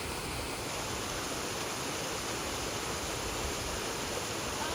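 A mountain stream in the Czech mountains rushes steadily over rocks nearby, a dense continuous watery roar with no pauses and no voices.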